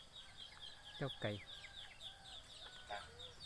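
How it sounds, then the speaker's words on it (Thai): A chicken clucks in short, sharp bursts on a small farm, a few quick calls standing out over busy background birdsong and faint chatter. "เจ้าไก่"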